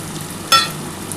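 Onions frying in oil with whole cloves, cinnamon and cardamom for a spicy chicken and potato curry: a steady low sizzle with one brief louder crackle of stirring midway, close and with no talking.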